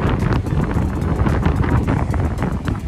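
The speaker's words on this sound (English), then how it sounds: "It's super windy." Strong wind buffets the microphone outdoors near a newly bought 2021 Toyota Highlander, a loud, steady rumbling roar that fills the whole stretch with no break.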